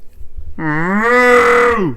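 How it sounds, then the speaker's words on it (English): A cow lets out a single loud, close moo lasting over a second, deep and steady before trailing off, alone with no talking. "Is that why cows sound like that?"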